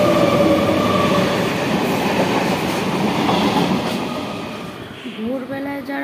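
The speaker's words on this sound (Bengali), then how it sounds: "একটা ট্রেন আসছে ঠিকই," An express train passes through a station platform without stopping, a loud continuous roar and rattle of wheels on rails that fades as it goes by, ending in quieter background sounds.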